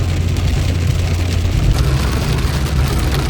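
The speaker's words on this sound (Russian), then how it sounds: "то ливень." Heavy rain downpour drumming steadily on a surface, a dense continuous hiss with a low rumble underneath, loud and unbroken throughout.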